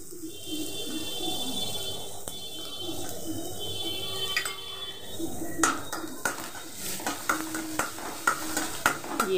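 Onions dropped into hot oil for pasta, a soft frying hiss under clattering utensils, with sharper scrapes and taps bunching up in the second half.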